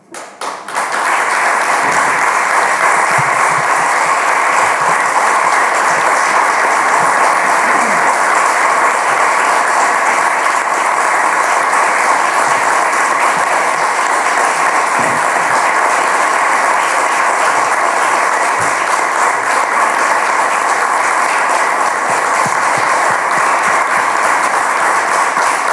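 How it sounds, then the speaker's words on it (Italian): At an Italian press conference, a roomful of people breaks into long, sustained applause. The clapping starts abruptly and then holds dense and even for nearly half a minute. "questo lungo applauso sottolinea"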